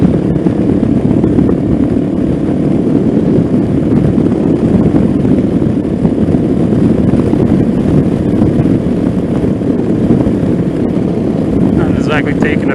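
A Venom Ghost 250 motorcycle rides steadily through town, its engine a loud, continuous drone with wind rush throughout and no clear shifts or pauses.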